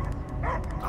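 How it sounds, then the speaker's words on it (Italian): Dog in the Guardians of the Galaxy video game, a single short close yip-like bark over a low, dense game soundscape. "Io sento solo abbaiare!"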